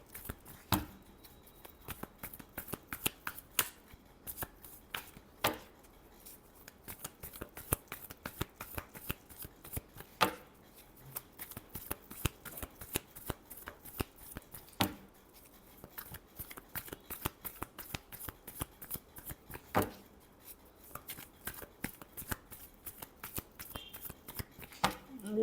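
Tarot cards being shuffled in repeated crisp riffling bursts, close and fairly quiet, with rapid papery flutters and taps recurring steadily throughout, no talk.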